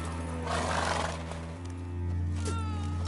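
Roach the horse in The Witcher 3 lets out a loud, breathy whinny and snort, with faint hoof clops, over a sustained low musical hum.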